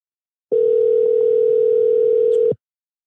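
A steady telephone call tone buzzes for about two seconds, loud and close, as a phone call to mom is placed, then cuts off abruptly.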